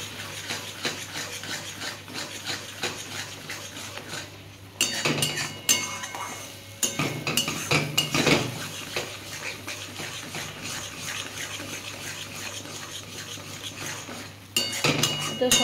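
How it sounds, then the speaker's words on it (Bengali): A spoon stirs and fries mashed ripe pointed gourd in a metal pan, with repeated clinking scrapes and bursts of louder scraping under a low background hiss, no voices. "তো সমানে এরকম করে নেড়ে নেড়ে বন্ধুরা একটু ভেজে নিতে হবে।"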